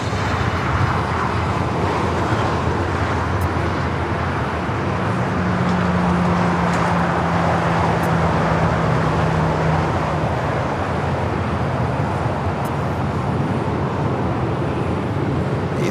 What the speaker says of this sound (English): Lufthansa Flight 457 taking off to Frankfurt on the 747-8 Intercontinental Yankee India